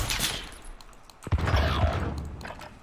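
Pistol gunfire in a Call of Duty: Modern Warfare private match, a burst of sharp shots with one strong crack midway, fairly quiet overall with game ambience around it.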